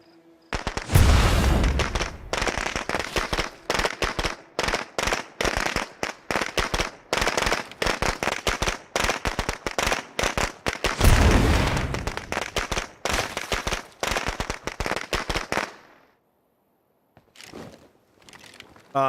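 An explosive detonates in the zombie survival game State of Decay 2, setting off a long, dense barrage of loud crackling blasts that lasts about fifteen seconds, then fades into a few scattered pops.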